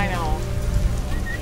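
Rain falls steadily outdoors during a road trip through wind and rain, a dense, continuous patter that stays even throughout.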